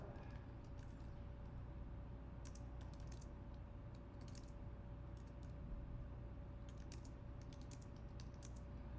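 Quiet typing on a computer keyboard while writing HTML and CSS code: irregular clusters of soft key clicks spread across the span over a steady low hum, with no talking.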